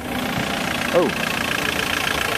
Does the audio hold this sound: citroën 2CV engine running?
yes